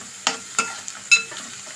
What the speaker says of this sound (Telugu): ఇలా ఏగిన దాంట్లో తోటకూర వేసేసుకుందామండి